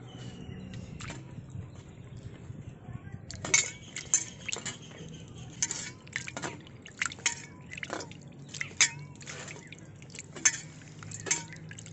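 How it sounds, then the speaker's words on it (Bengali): Shelled prawns being washed by hand in a bowl of water, irregular drips, splashes and light clinks scattered over a quiet background, no talk. "এবার আমি ধুয়ে নিচ্ছি এই বাটিতে।"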